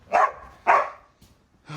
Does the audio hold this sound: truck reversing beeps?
no